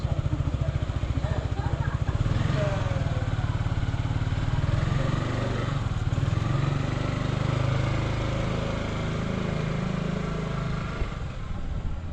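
A motorbike rides through narrow streets on a tiny island in Bali, its engine putting out a steady, close, rumbling drone with slight shifts in pitch and a windy hiss throughout.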